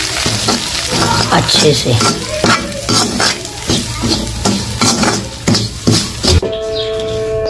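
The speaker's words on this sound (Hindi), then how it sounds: "अब इसे हम भून लेंगे" Semolina roasts in a pan as a spoon scrapes and stirs it in loud, rhythmic strokes over a dry sizzle, and a voice speaks briefly near the start.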